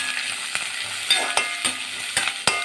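Onions sautéing for rice upma sizzle steadily in a pan, with sharp spoon scrapes and taps about every half second over the constant frying hiss; close and moderately loud, no talking.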